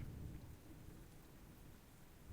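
Steady rain falls during a thunderstorm, a soft, even hiss over a low faint rumble that continues without a break.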